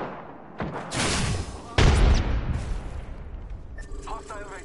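Gunfire and heavy impacts in the video game Apex Legends, two loud booming bursts followed by a rumbling decay, with a character voice calling out near the end.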